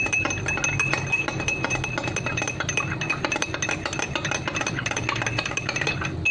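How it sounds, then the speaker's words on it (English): Spoon stirring oil and water in a drinking glass, a rapid continuous stream of bright clinks against the glass at close range, steady rhythm throughout with a faint background hum and no speech. "Let's go to our second glass and let's put some oil here."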